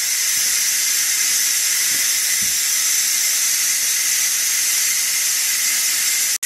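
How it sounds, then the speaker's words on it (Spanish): Loud, continuous hiss of steam escaping the release valve of a Ninja pressure cooker after cooking beef broth, steady and close for several seconds, then abruptly cut off. "lo que vamos a hacer es a mover la válvula para que salga todo el vapor"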